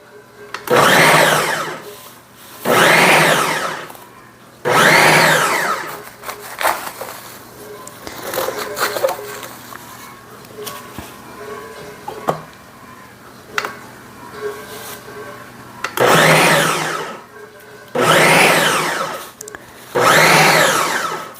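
A Ninja food processor runs in five loud bursts of a couple of seconds each, two at the start, one near five seconds and two near the end, with quieter clattering and handling sounds between them.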